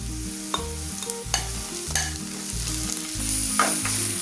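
Small peeled tomato pieces frying with browned onions for a Kerala-style mutton roast, a steady close sizzle with a few stirring scrapes, while a low tonal background hum plays underneath.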